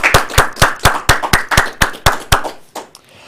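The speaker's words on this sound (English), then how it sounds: "Let's give our Toastmaster for this evening a round of applause." A small group claps for the Toastmaster at a Toastmasters club meeting, with about a dozen crisp, evenly spaced claps close to the microphone, slowing and fading away near the end.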